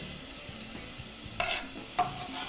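Chopped onion and garlic hit a hot pan and are stirred, a steady low sizzle punctuated by two brief sharp scraping clinks of the spoon against the pan.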